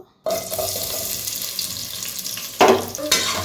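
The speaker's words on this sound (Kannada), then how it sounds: "ಒಂದು ಪಾನ್ ಇಟ್ಟು ಅದಕ್ಕೆ ಎಣ್ಣೆ ಹಾಕಿ ಈರುಳ್ಳಿ ಹಾಕಿ ಫ್ರೈ ಮಾಡ್ಕೋಬೇಕು" Onions go into hot oil in a pan and set off a sudden, steady hiss that holds throughout, with a couple of louder surges near the end.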